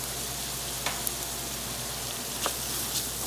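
Butter melts in a pan alongside garlic and oregano, giving a quiet, steady sizzling hiss that runs evenly throughout, with a few faint crackles.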